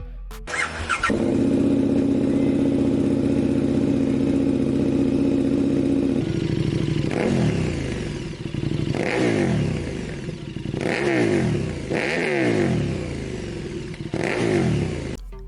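Harley-Davidson 1250 Custom motorcycle engine holding a loud, steady near-field drone, then revving up and down in repeated swells with rising and falling pitch.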